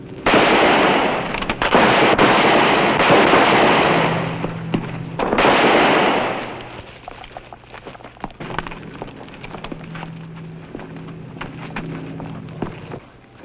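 Loud gunshots in an old-time Western radio drama about Wyatt Earp and Pinkerton agents: a dense volley of bangs and blasts fills the first six seconds, then fades into quieter room tone with faint clicks and low hum.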